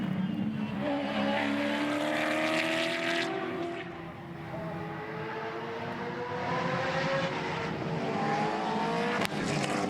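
Gen3 Supercars, a Mustang and a Camaro, race at Bathurst. A loud, rasping engine note climbs and falls as the cars pass, with overlapping gear-change sweeps, a brief dip, a renewed surge and a sharp click near the end.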